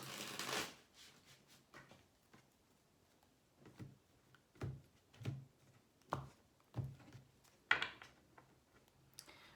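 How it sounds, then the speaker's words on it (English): Close, quiet riffling and tapping of tarot cards being shuffled, a brief burst followed by a series of soft irregular clicks and slaps. "So let's give this deck one more shuffle"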